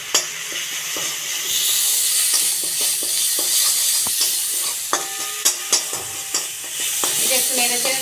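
Ginger paste, onion paste, salt and turmeric are stirred in a hot pan, giving a steady close sizzle and hiss broken by scraping and clinking of the spoon against the pan.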